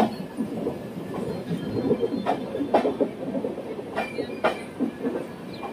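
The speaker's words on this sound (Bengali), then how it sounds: "এক্সপ্রেস ট্রেনকে পাস করাচ্ছে" An express train rumbles past close by, with a steady rolling roar and repeated metallic clacks as the cars go over the rail joints.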